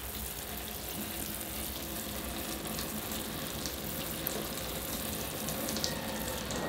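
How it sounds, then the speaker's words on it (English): Water poured over a bonsai pot and draining out through the drainage holes as the soil is flushed, a steady close hiss of running, trickling water with no talking. "Give it a good thorough watering. Starting to come out the drainage holes now."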